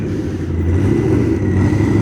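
A car engine revs loudly and close at a night car meet, a deep sustained rumbling roar that swells and holds without letting up, with no voices.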